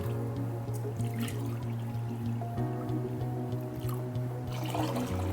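Water poured into a pan of sugar while making syrup for gulab jamun at home, a steady continuous stream with faint liquid splashing, close and fairly quiet, no talking.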